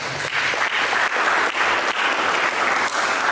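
Loud, dense applause from a church congregation at a sermon, a steady wash of many hands clapping close and full throughout.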